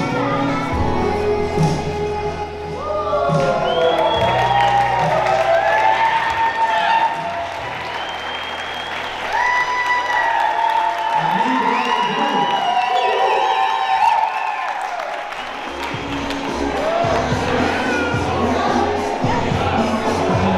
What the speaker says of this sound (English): of applause for our new bride and groom once again